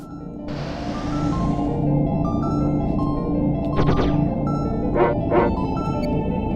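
Dog barks from the companion dog in the Secret of Evermore video game, a few short barks at about 4 and 5 seconds over steady game music and effects.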